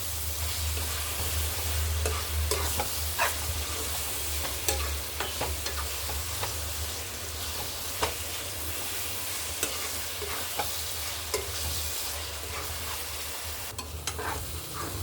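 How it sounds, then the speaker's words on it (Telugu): Gongura leaves, onion and garlic fry in oil, a continuous moderate sizzle broken by repeated clicks and scrapes of a spoon stirring the pan. "ఆయిల్లోనే బాగా మంచిగా ఫ్రై అయిపోతుంది అన్నమాట"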